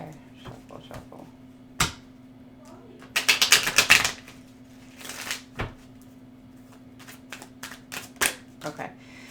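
A deck of tarot cards being shuffled, with a quick burst of riffling at the centre, scattered card taps and handling sounds before and after, and a low steady hum underneath.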